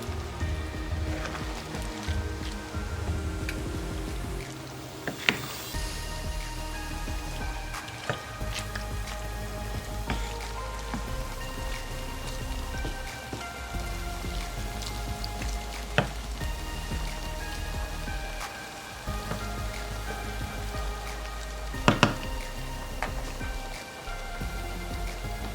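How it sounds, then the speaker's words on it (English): Taco meat mix with liquid and a little sugar bubbling and reducing in a pan, a steady busy sizzle with scattered pops and crackles, close and continuous with no talking. "We're going to let this come to a boil and reduce down so all that liquid is out"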